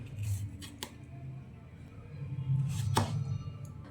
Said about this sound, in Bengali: এই টমেটো দুটোকেও আমি 4টে টুকরো করে নেব।